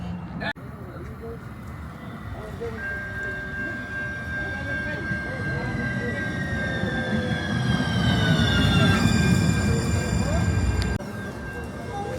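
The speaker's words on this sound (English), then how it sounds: "So here comes hopefully the train comes." A train rumbles in near the Mexican border at San Diego, growing steadily louder, with high metallic squeals and ringing tones over the heavy noise and faint voices in the background.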